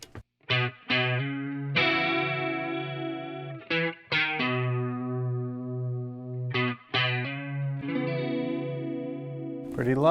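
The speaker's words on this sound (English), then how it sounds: "And we're gonna be in chorus mode." Electric guitar through a WA-C1 chorus and vibrato pedal in chorus mode, strummed chords and plucked notes ringing out with a lush, shimmering, slightly distorted wobble, loud and close with short gaps between phrases.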